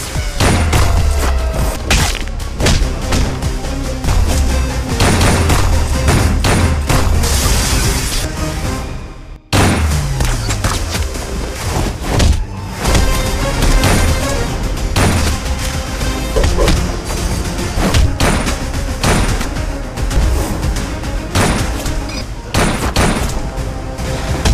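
Gunfire and explosions in an Indian action film fight scene: dense, loud bursts of rapid shots and heavy booms, briefly cutting out near the middle before the barrage resumes.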